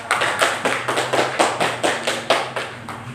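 A class of students clapping their hands in unison, about a dozen sharp, evenly spaced claps in a steady rhythm, close and fairly loud.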